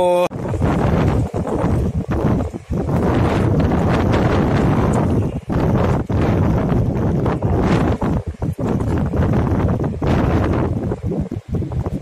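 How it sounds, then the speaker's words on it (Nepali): Strong wind blasts across a hillside village, roaring continuously against the microphone in heavy buffeting gusts with brief lulls, loud and close, with a voice faintly underneath. "यस्तो हावा यस्तो उडाउन लाग्यो"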